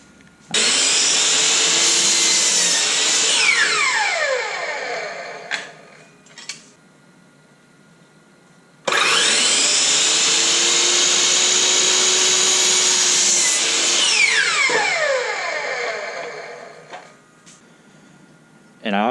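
A power saw cuts through a scrap piece of 2x4 lumber in two long, loud passes, each a whining motor and ripping cut that winds down, separated by a quieter pause with brief clatter.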